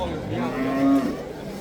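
A single low, drawn-out moo from an ox at a livestock market in Samarkand, fairly close, with faint murmuring and background bustle around it.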